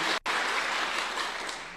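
A crowd at a church gathering in Machakos applauds a member of parliament, dense continuous clapping filling the space with one brief dip near the start.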